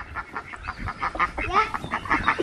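A flock of free-range farm ducks eating watermelon rinds gives a rapid, rhythmic string of honking quacks, fairly faint and steady for a couple of seconds.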